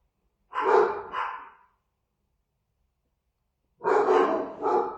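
Small pet dogs give two short bursts of barking, a pair of yaps near the start and another pair a few seconds later, separated by silence.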